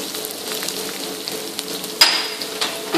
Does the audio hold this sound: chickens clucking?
no